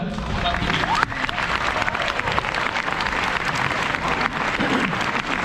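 A crowd at a junior football club presentation day applauds an award recipient, with sustained, dense clapping and some cheering, loud and steady across the whole stretch.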